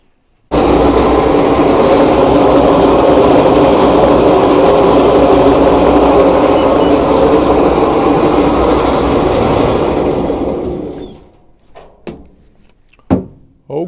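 An EnoItalia ENO 3 wine grape destemmer crusher runs with a loud, steady mechanical roar and rattle for about ten seconds, then winds down and stops, leaving a few scattered clicks.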